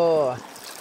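Clear river water flows at Nasugbu, Batangas as a steady, close rush of noise, opening briefly under a voice before continuing alone.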